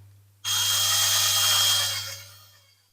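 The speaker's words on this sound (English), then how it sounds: "We might need a bigger drill." A power drill bores into a Dinky Toys diecast Austin van, whirring loudly, starting abruptly and running steadily for about two seconds before winding down, with a low electrical hum underneath.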